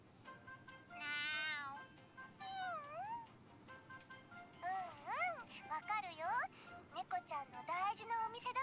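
A cat meows several times in the Princess Connect Re:Dive game, a few drawn-out cries followed by quicker, more insistent mews over faint background music, with a voice speaking briefly in between.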